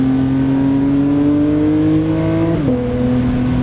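A Porsche 911 GT3 of the 992 generation with its high-revving flat-six engine, holding a loud, close, steady rising tone before a sharp throttle blip and drop in pitch near the end.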